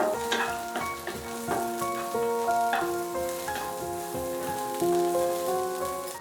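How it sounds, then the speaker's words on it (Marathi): Chopped onion and grated coconut roast in a pan with a soft, crackling sizzle and light stirring, set under melodic background music. "त्यानंतर बारीक चिरलेला कांदा, त्याला चांगला लाल रंग येईपर्यंत भाजू."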